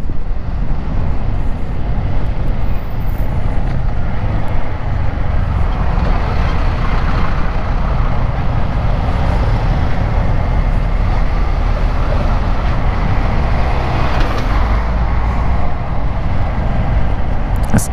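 A Honda CG 160 Fan motorcycle is ridden at steady speed, its engine a continuous low drone mixed with wind and road noise, with no talking.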